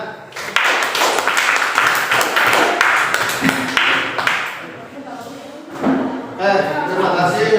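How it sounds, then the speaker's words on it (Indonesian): Pupils in a classroom break into applause, a loud, dense burst of clapping that lasts several seconds before it thins out, with voices and chatter mixed in toward the end. "Tepuk tangan."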